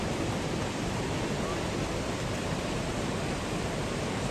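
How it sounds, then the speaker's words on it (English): Water rushes steadily over smooth rocks below a lookout in the Cairns region of Queensland, a loud, unbroken broadband roar with no pauses and no voices heard. "Hopefully you can hear me with all this water rushing."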